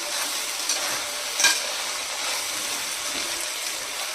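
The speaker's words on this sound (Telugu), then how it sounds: "కొద్దిసేపు అలా సిమ్లో ఫ్రై చేసేసుకోండి" Ground masala paste fries in a pan on a low flame, giving a soft, steady sizzle with faint stirring scrapes and one brief louder clatter.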